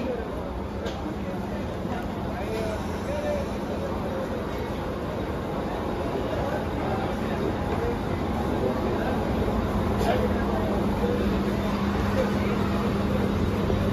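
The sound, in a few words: Mumbai suburban local train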